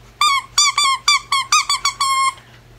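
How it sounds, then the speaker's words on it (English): A squeaky plush donkey dog toy with crinkly ears is squeezed repeatedly, giving about eight loud, close, high-pitched squeaks in quick rhythm with no talking. "It's a little donkey. Got some crinkly ears. He's pretty cute. He also squeaks."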